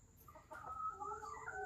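Chickens cluck in an indoor breeding pen, a short, close burst of rising and falling clucks and squawks from one or two birds, with no talking.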